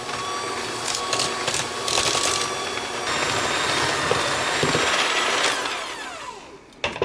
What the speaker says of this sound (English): now I'm going to go ahead and mix this together until it's all nice and combined